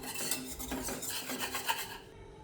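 A spoon scrapes and rasps against a pan as gram-flour khandvi batter is stirred and roasted over medium heat, a steady, close, scratchy rubbing with no voices.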